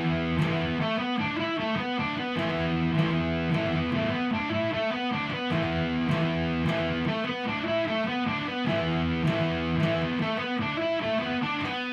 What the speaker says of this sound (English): To speed, the riff sounds like this.